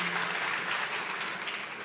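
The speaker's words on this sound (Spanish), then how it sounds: "Les pido un aplauso para los tres, por favor." Steady audience applause fills a hall at the Chile Fintech Forum 2024, a dense, even wash of many hands clapping close by, with no pauses across the short stretch.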